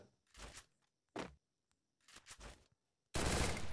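MP40 submachine gun fire in the game Free Fire: three separate short bursts with silent gaps between them, then a louder, sustained burst of rapid shots at the end, with no voices.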